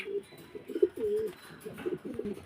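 Several pigeons at a pigeon farm in Mohammadpur, Magura, give soft, burbling coos close by in quick, overlapping bursts with brief pauses.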